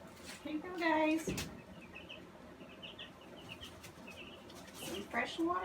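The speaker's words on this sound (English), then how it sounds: "These are my first 4 new chicks." Small birds chirp and peep in short bursts, close by, with a few louder clucking calls mixed in over a quiet background.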